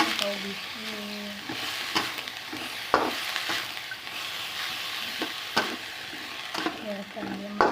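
Spring onion, carrot and other vegetables stir-frying in a pan with a continuous loud sizzle, broken by sharp scraping and clanking strokes of the spatula at an irregular pace, and a few quiet words spoken.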